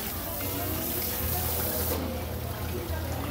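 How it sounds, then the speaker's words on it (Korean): A mackerel fillet for Jeju-style cured mackerel is rinsed under a running kitchen tap, giving a steady close hiss and splash of flowing water with a slight change in tone partway through. "자, 이렇게 흐르는 물에 한번 씻어 주겠는데요"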